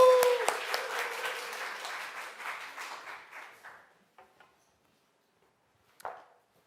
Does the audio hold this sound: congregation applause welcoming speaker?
yes